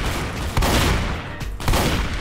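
Gunfire in a Roblox Fortnite-style shooter game comes as loud, rapid bursts of shots, with a couple of sharper blasts standing out, and no talking.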